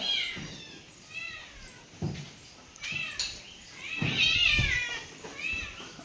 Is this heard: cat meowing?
yes